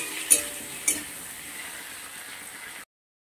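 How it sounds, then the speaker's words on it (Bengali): Diced potatoes and chopped tomato fry in a pan with a soft, steady sizzle, broken early by two sharp clinks of a utensil against the pan before the sound cuts off. "আলুর সঙ্গে টমেটোটাও ভালো করে ভেজে নেব মিনিট 2 মতো"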